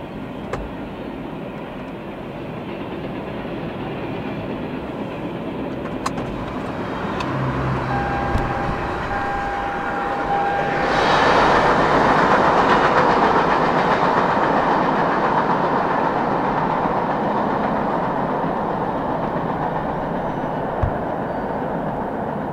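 CSX freight train of old boxcars passing on a cold day, a steady rumble of rolling cars that swells louder midway, with a brief whistle-like tone and occasional clanks.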